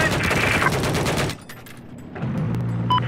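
Rapid automatic gunfire in Battlefield 4 close-quarters combat on the Shanghai map, loud and dense for over a second before breaking off, leaving a lower-level rumble and some sparse game sounds.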